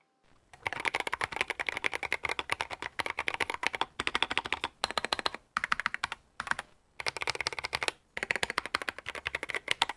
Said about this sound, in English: Just listen to this keyboard here.